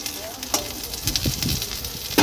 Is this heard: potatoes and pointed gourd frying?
yes